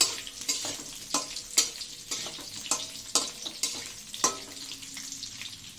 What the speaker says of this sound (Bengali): আলুটা ভাজা হোক।